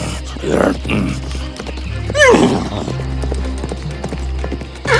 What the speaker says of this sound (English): The loud neighing of my horse disturbed the sleeping giant